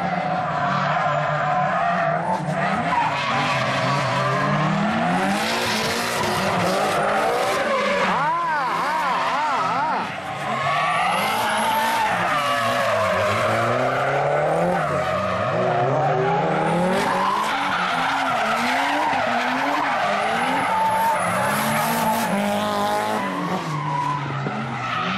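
Race cars at the start of a third-place deciding race in an exhibition event, engines revving and roaring loudly with squealing, skidding tires, a dense and continuous blare from start to finish.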